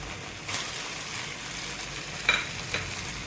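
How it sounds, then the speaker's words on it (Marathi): Hakka noodles are dropped into sauces in a hot pan, a continuous close sizzle with soft stirring and a couple of brief scraping clatters. "आपले सॉसेस छान प्रकारे मिक्स झालेले आहेत तर आपण यामध्ये आपले नूडल्स टाकून घेऊया"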